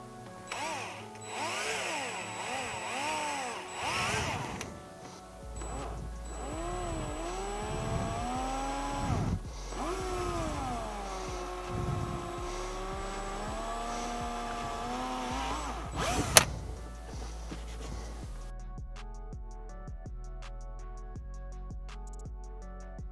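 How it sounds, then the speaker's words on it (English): A power drill bores into the center console panel of a Toyota 4Runner, the motor whining and changing pitch in repeated bursts with brief stops, heard close and fairly steady over about twenty seconds. "so we're still able to get the drill bit in there"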